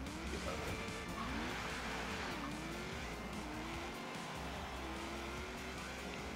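Cars race in the video game Forza Horizon 3, with a continuous loud engine drone and whining revs that rise and fall, alongside occasional tire squeal, unbroken throughout.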